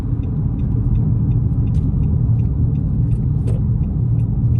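Steady low rumble of a car driving on a road on a Sunday afternoon, engine and tire noise heard from inside as a continuous drone, with a few faint higher clicks and no talk.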